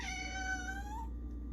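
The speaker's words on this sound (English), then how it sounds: "I love my cat." A house cat gives one long, clear, drawn-out meow, close and loud at first and then trailing off, with a low room hum underneath.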